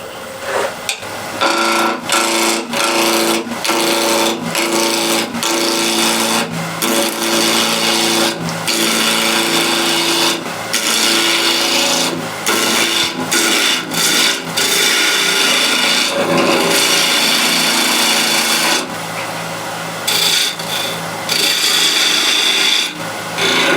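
Wood being roughed on a lathe, a salvaged log end turned with a gouge: a steady, loud rasping scrape with rhythmic tonal whirr, broken by brief pauses, close up and alone.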